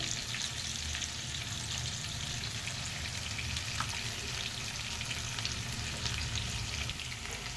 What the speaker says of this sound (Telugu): మునక్కాయలు అయితే కొంచెం మీడియంలో పెట్టి ఫ్రై చేసుకుంటున్నాను